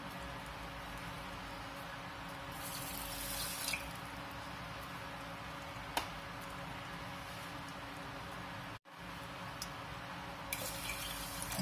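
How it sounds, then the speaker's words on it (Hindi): Water from a tap runs steadily into a pan of sugar being turned into syrup for Indian gooseberry (amla) murabba, a continuous close splashing pour with a brief break near the end and no talk. "अब इसकी हम चाशनी बनाएंगे पानी डाल के।"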